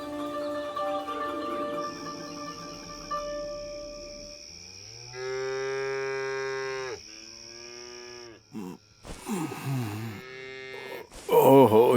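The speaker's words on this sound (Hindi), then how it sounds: "ये तो गाय भैंसों की रांभने की आवाजें हैं" Cows and buffaloes low repeatedly at night, long droning moos in several separate calls, loud and close, with a steady high tone and other animated sounds in between.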